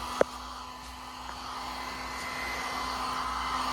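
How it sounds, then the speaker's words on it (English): A heat gun drones steadily with a constant hum while it is worked over car window tint film on a frameless window, with one brief tap near the start. "I'm just going to take my hard card and my heat gun and just get rid of that."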